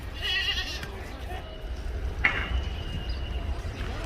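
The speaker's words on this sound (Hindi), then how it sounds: "ये जो बकरे अक्सर पाकिस्तान में भी होते हैं इस तरह के बकरे, इसे जो है सोमाली बकरा कहा जाता है" Somali goats bleating amid the bustle of a livestock market in Makkah, with a couple of short calls standing out over steady crowd noise and low rumble.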